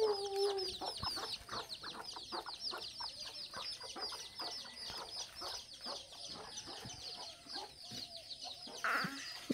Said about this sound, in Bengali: তোমার দাদার বাড়ির মুরগি কিন্তু আমও খায়